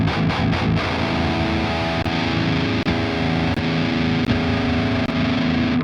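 Heavy distorted metal guitar through the KOBRAA amp sim's fatal channel, a rounder, more subdued tone: quick muted chugs at the start, then sustained chords with brief rhythmic breaks, loud and unaccompanied.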